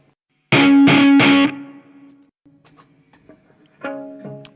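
Electric guitar through a Marshall MG100HCFX amp on an overdrive preset with spring reverb: three loud distorted chord stabs ring out and decay, then quieter picked notes and a final pair of chords.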